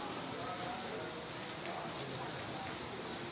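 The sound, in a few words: rain falling in Lucknow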